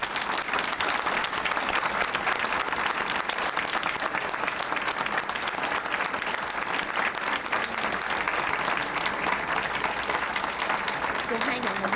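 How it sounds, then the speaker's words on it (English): An audience at a county board of education meeting gives a sustained round of applause, loud, dense and steady for the whole stretch, with a few voices mixed into the clapping. "Let's give them a round of applause."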